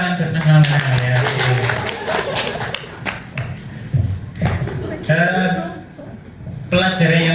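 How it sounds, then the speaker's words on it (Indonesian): Audience clapping for Mas Maulana during a resilience teaching session, scattered and uneven, with someone talking over it throughout. "boleh tepuk tangan buat Mas Maulana ya"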